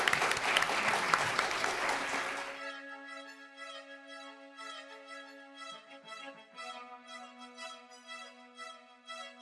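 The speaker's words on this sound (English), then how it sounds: "Let's give our panel a round of applause." An audience claps for a discussion panel in a dense burst of applause lasting a couple of seconds, then it cuts off abruptly and music takes over.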